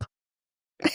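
A single short sneeze bursts out at close range near the end, following a brief faint sound at the start and near silence between.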